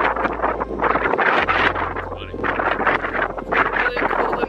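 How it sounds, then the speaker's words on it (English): Chilly wind blows across a lookout point at Nugget Point, New Zealand, buffeting the microphone with a steady, loud, broadband roar and low rumble that lasts the whole stretch. "It's a little chilly and a little windy out"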